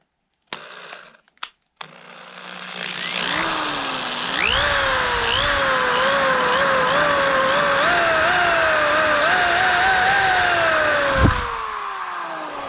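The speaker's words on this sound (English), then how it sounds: "And then I'm going to take a drill with a 1/16 drill bit." A power drill with a 1/16-inch bit boring a small hole about 3/8 inch deep into a staple for a handmade powder horn, a few short clicks and bursts, then a long steady whine that rises and falls in pitch and ends abruptly.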